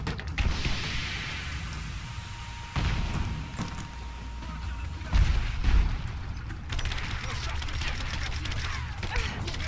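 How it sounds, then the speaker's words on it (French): Covering gunfire from allies in Rise of the Tomb Raider, bursts of shots and heavy impacts breaking out every couple of seconds over a hissing, windy backdrop, with some talk mixed in. "vos tirs de couverture ils font un peu beaucoup quand même"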